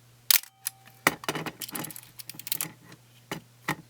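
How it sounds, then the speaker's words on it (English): A manual 1970s-80s film camera's shutter fires and is wound, a few sharp close mechanical clicks and snaps with soft lever rattles in between, quiet and isolated. "This is a manual one, so we don't need batteries to operate the shutter."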